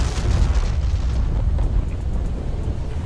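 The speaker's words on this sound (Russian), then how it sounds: "Да мы всего лишь звезду взорвали." A star explodes in the Roblox video game, a continuous deep rumbling boom with broadband roar that stays loud and steady for about three seconds, with no talk over it.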